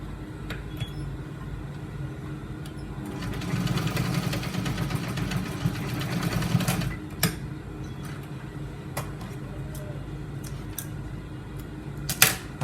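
A sewing machine stitches a trouser seam, with a steady whirring run of about three seconds mid-clip over a low motor hum. Scattered sharp clicks follow in a quiet room.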